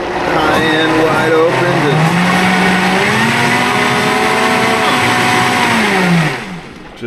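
A Vitamix blender runs at high speed, pureeing ice and sugar: a loud, steady motor whine lasting about six seconds that holds a sustained pitch, shifts slightly as the load changes, then winds down at the end.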